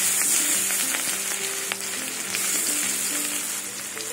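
Onions frying in a pan for a brinjal (eggplant) curd dish, a loud, continuous close sizzle with faint stirring scrapes and no voices.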